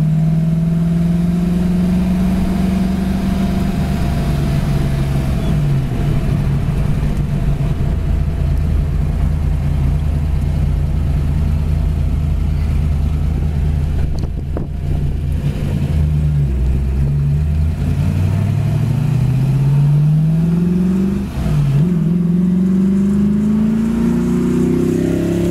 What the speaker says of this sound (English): Car shifts nice.